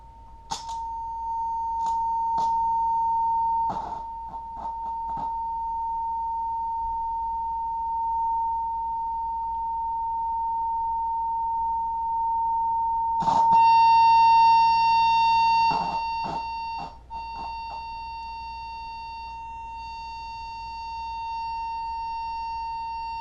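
A steady 1,000 hertz sine test tone plays through a Marshall Lead 12 guitar amplifier under repair, holding continuously throughout with a faint low hum beneath and occasional brief clicks and crackles.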